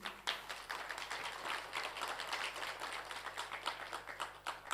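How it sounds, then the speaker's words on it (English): Audience applauding panelists at an MSME and sustainable development session, steady dense clapping filling the room throughout, moderately distant and even. "A big round of applause for them, please."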